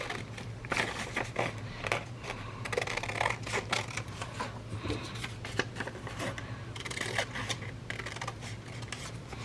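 Scissors snipping a small scrap from a vintage book page, a quiet run of quick crisp paper cuts and rustles in a close, hushed space without speech.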